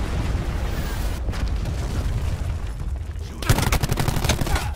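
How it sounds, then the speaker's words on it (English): Hellstorm missile strike in Black Ops 4, heard as a dense barrage of booming explosions and rapid gunfire, loud and continuous, swelling into a sharper crackling burst near the end. "Oh, I hear Hellstorm."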